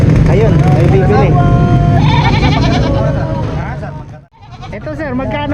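Sheep bleat among goats and other livestock at a busy animal market, wavering cries rising over constant crowd noise while people talk loudly close by.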